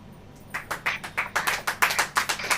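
A church congregation claps hands in a steady, rhythmic beat, sharp repeated claps building in loudness and continuing in even time without talk.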